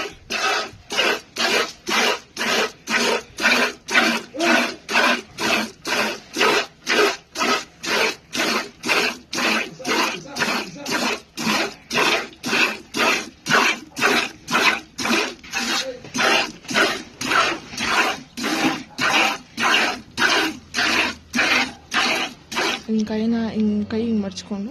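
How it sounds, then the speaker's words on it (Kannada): A cow is milked by hand at high speed, producing a long, steady run of rhythmic squirting strokes, roughly two per second, close and even throughout, with a brief shift of sound at the very end. "ಇವಾಗ ಹಾಲು ಕರಿಯೋದು ಕ್ಲಿಪ್ಪಿಂಗ್ಸ್ ಆ್ಯಡ್ ಮಾಡ್ತಾಯಿದ್ದೀನಿ."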